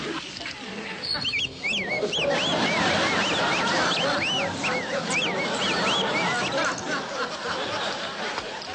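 A man imitates a red-tufted crane bird call with a run of repeated warbling, honking whistles that rise and fall rhythmically, loud and close over background crowd murmur.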